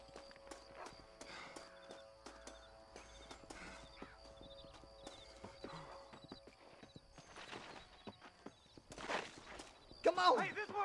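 Horses in the Red Dead Redemption video game, faint scattered hoof clip-clops and an occasional whinny mixed with cattle and gunfight ambience, with shouting voices over the top and a louder burst near the end.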